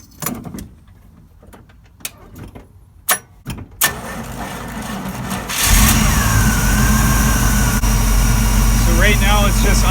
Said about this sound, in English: So right now it's just idling with the fast idle on it.